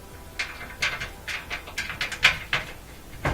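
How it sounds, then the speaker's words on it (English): Phillips head screws being hand-threaded into the bottom plate of an LG range: a quick series of faint, dry ratcheting clicks and scrapes, close and alone. "We'll feed these two Phillips head screws back in."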